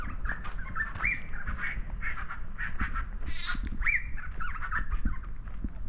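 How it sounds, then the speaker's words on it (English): Several birds calling and chirping in a repeated, squawky chorus, fairly close, over a low steady background rumble with no talking, in Tamarindo. "You got to hear some pretty birds instead."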